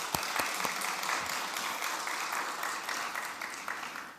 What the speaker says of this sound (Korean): 축하의 박수 한번 드릴까요?